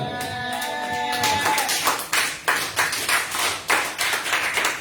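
A church congregation claps in praise of the Lord, a rhythmic run of loud broadband claps building after an opening of sustained tonal sound, mostly without voices.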